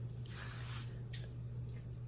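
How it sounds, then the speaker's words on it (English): Got To Be Free spray hisses onto a wig cap in one longer burst followed by two short quick spurts, close up over a steady low hum. "time for the second coat of Got To Be Free spray"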